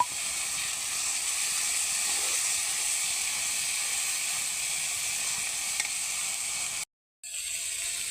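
Spice masala with washed dried shrimp frying in oil: a steady, dense sizzle and hiss runs evenly throughout, broken only by a brief silent gap near the end before the sizzle resumes.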